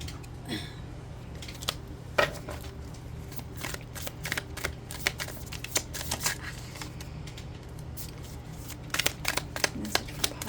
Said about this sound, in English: every time I try to shuffle for you, my cards keep jumping